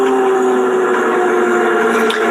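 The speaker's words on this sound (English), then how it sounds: "Now, can you hear that sizzling? Can you hear that popping a little bit?" Potato frying in a skillet gives a steady, dense sizzle with light popping, alone and fairly loud throughout.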